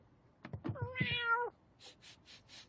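A cat gives a few short chirps and then one long, clear, drawn-out meow close to the microphone, followed by several soft scuffling noises.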